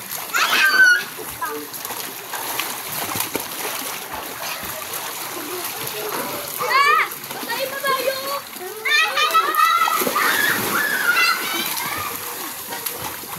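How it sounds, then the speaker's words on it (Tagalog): Children splash and bathe in a swimming pool, with water slapping and splattering nearby while kids chatter and call out throughout. "Enjoy na enjoy po si Bibi, nak. Doon na, ligo"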